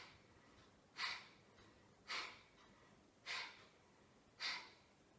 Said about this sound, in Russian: А теперь выполняем дыхание капалабхати. Легкий вдох и резкий выдох.